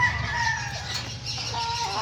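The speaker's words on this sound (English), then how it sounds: "Look at that bird." A bird, apparently a chicken or similar fowl, gives close, fairly loud clucking calls in a short run over a steady low background rumble, with no talking.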